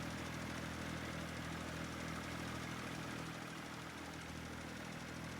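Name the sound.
tractor engine struggling up a hill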